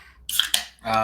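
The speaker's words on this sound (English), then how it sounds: "Time to crack open a beer now." A metallic beer can tab clicks and a sharp hiss of escaping gas follows, then fizzing; short, close and fairly quiet.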